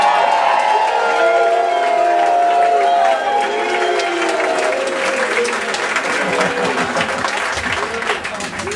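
A live audience applauds and cheers for saxophonist Euge Groove, a loud, dense sustained wash of clapping with voices calling out over it, gradually thinning toward the end.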